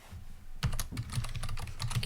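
Key presses on a computer keyboard, including the D key, in an Unreal Engine 4 session: silence, then a quick run of close, crisp clicks tapping out a short burst.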